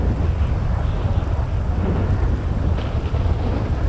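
Stormy weather in GTA 5 fills the scene with a dense, loud wash of heavy rain and a continuous low thunder-like rumble with wind, steady throughout and without clear breaks.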